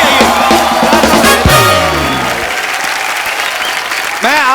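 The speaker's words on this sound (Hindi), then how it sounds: "सनी बाजी और बॉबी बाजी के लिए जोरदार तालियां हैं" A TV show studio audience breaks into loud applause, with a host's voice over the start, and the clapping fades to a lower, steady patter before a voice returns.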